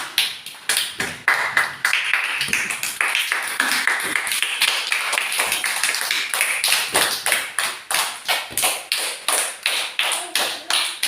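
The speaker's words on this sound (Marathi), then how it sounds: "जोरात टाळ्या." Loud, rapid clapping during a ball-catching game, dozens of sharp claps in a fast, steady rhythm, close and continuous throughout.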